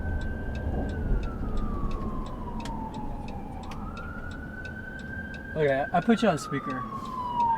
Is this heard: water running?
no